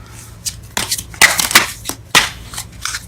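Tarot cards riffle and slap together in several quick bursts, close and crisp, with short pauses between the shuffles.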